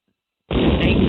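A sudden, loud explosion sound effect bursts in after a moment of silence. Its heavy, broadband roar sustains to the end without fading.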